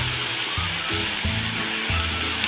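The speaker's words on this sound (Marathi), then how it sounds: "आता एकसारखं असं परतून घ्या म्हणजे मिठामुळं काकडीला पण आपलं पाणी सुटतं" Cucumber pieces sautéed with salt in a pan for a vegetable dish, giving a steady soft sizzle with low scraping stirs, close and alone with no talk.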